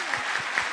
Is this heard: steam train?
no